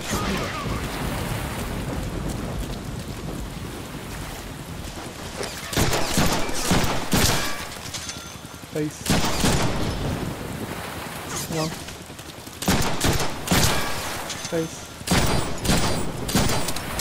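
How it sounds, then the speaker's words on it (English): Heavy gunfire from the Deadpool video game comes in loud, dense bursts of rapid fusillade, separated by short pauses of lighter combat noise, with a voice talking over parts of it. "Oh joy! Bullets!"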